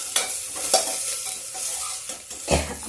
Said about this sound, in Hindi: गैस तेज है, तेल डाल दे, प्याज डाल दे। अब प्याज डाल दिया मैंने